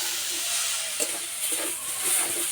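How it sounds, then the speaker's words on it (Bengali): Cauliflower filling for kachori frying in a pan, a steady hiss and crackle with a few soft stirring scrapes, close and fairly quiet throughout. "কফিটা কিছুক্ষণ এইভাবে ভেজে নিয়েছি।"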